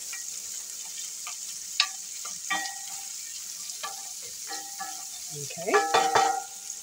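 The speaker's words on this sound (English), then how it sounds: "I want to caramelize these onions a little bit" Onions caramelizing in a pan over a very low burner, a soft steady sizzle with scattered utensil scrapes and stirring clatter, a brief spoken word near the end.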